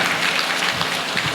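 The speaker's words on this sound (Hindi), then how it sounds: "हाँ वो भैया पर जोरदार ताली बजा दो" A crowd applauding at a devotional Manas gathering in Bhothipar, Dhamtari, as a steady, dense wash of hand claps that carries on evenly for the whole moment with no voices.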